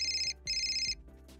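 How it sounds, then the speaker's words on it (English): A telephone rings on the line after a number is dialed from a sofa: two bright electronic rings, close and clear, separated by a brief pause. "Cal sits on their sofa and dials Satoshi's number."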